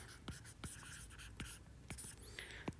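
Handwriting during a state-level exam coaching lesson on a rural kitchen scheme, with repeated pen or chalk strokes, scratchy and close, a few short taps and a brief squeak near the end.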